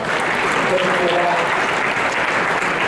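A crowd applauds Mayor de Blasio at an education and civil rights event, dense continuous clapping at an even level throughout.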